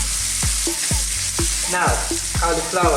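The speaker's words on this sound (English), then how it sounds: "while you are cooking this Asian dishes or any stir fry, your wok is in the high heat" Chicken chow mein stir-fried with vegetables in a wok over high heat: a steady loud sizzle with rhythmic scraping and clanking strikes of the utensil against the pan, and a voice speaks briefly.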